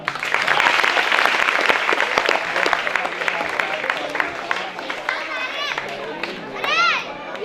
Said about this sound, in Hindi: एक बार और तालियां।